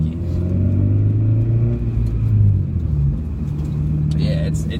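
Engine of a 2002 Acura RSX Type-S runs steadily while driving with a suspected throttle position sensor fault, a low continuous hum with a slight rise in the middle, heard from inside the cabin.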